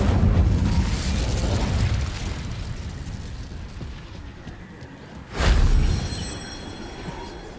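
Incendio fire spell cast in Hogwarts Legacy: a rumbling fiery rush fades over several seconds, then a sudden whooshing burst flares up loudly and decays into a low crackling roar.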